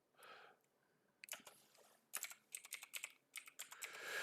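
Quick bursts of keystrokes clatter on a computer keyboard, close and crisp, coming in short clusters separated by brief pauses, with no one speaking.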